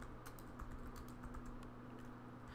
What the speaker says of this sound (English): I'm going to go ahead and type in Google search here